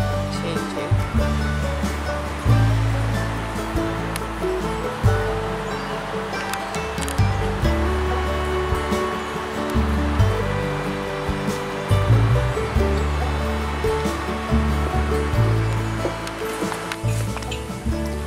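Steady rushing water from a river in Japan flows continuously and fairly close, a dense broadband wash with a low rumble underneath and no clear speech.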